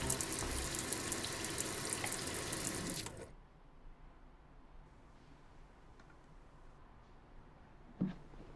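Water pours strongly from a kitchen tap into a sink while a drain is cleaned. The loud rush runs for about three seconds and then stops abruptly, leaving a quiet room and one small clunk.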